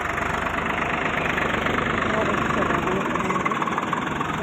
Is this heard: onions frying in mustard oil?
no